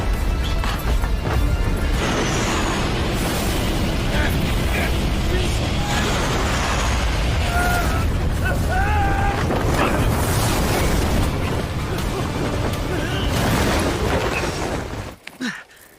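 An airplane explodes in the TV drama Death's Game: a loud, sustained crashing roar and rumble fills most of the stretch, with voices over it, before cutting off abruptly near the end.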